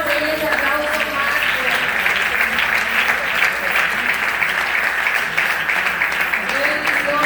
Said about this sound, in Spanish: denle ese aplauso más